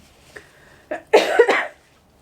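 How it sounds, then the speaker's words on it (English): A person coughs several times, a small cough followed by a louder, harsher burst of coughs close by, then quiet. "which may be what is making me cough at the moment"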